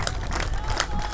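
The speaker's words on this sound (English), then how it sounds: "Looks like the SLIPDIISC team is trying to start a cheer here, and they're getting the fans into it here." Home fans at the UPAI NCUC 2022 ultimate frisbee final on a home court clap and cheer together in a short burst of crowd noise with sharp rhythmic claps.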